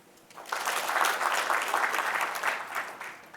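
An audience at an entrepreneurship lecture clapping on request, a full crowd of hands swelling quickly into steady applause and holding for a few seconds before easing slightly.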